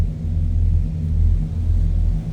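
A 1961 Pontiac Catalina convertible's 389 V8 idles steadily up close, a deep low rumble with an even, continuous throb and no voices over it.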